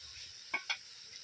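Chicken curry spice paste frying in oil, a faint steady sizzle broken by two quick scraping stir sounds close up.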